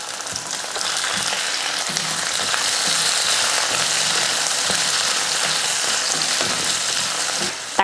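Shallots, garlic and tomatoes sauté in oil in a kadai with a steady, close sizzle and crackle. Occasional scrapes and stirring knocks sound against the pan.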